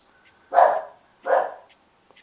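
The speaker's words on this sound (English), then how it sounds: "My dog's going crazy." Dog barking at the mailman from indoors, two loud separate barks about a second apart with small yips in between, no talking over them.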